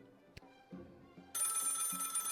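A telephone rings loudly in the video game Lil' Guardsman: a bright, sustained electronic ring starts partway through and continues to the end over a low background hum.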